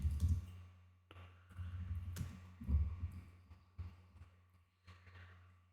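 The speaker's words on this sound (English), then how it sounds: "let's type response" Keys clatter on a computer keyboard in quiet, irregular bursts of clicks and taps, close and fairly soft, with short pauses between the runs of typing.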